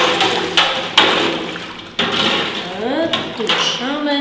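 Rennet pours into milk in a cheese vat, giving a steady splashing, rushing liquid sound with a few clinks and knocks, while a person talks over it.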